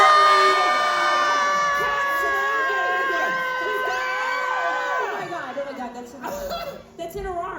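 A crowd of people screams together loudly and at length, a sustained mass of high shrieks that breaks into shouts and laughter as it fades.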